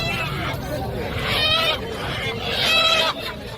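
Chickens at a busy weekly poultry market in Lonand, including desi and DP cross birds, give two loud crowing or clucking calls over a steady crowd murmur, with people chattering throughout.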